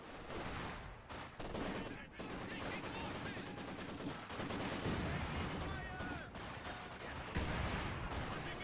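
Constant gunfire and machine-gun bursts from a World War II battle in the Company of Heroes video game, an anti-tank gun firing among dense overlapping shots and explosions, with faint talk underneath.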